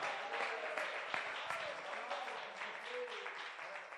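A church congregation applauding together, a dense sustained wash of clapping heard from a moderate distance at fairly low level, with voices mixed into it.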